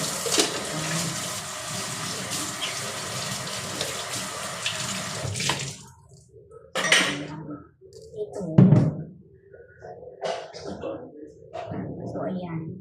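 Dirty liquid poured out of a cooking pot into a trash container: a steady splashing gush for several seconds that stops abruptly, followed by sporadic clanks and drips with a person talking nearby.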